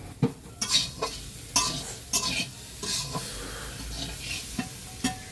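Greens sizzle in a frying pan while a utensil stirs and scrapes them, making repeated sharp clinks against the pan over a steady hiss of frying, close up with no talking.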